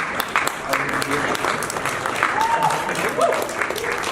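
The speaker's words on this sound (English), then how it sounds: "Please give them a warm round of applause, ladies and gentlemen." Steady applause from a conference audience greets panel experts taking the stage at a blockchain and cybersecurity event, with a few whoops and cheers rising over the dense clapping throughout.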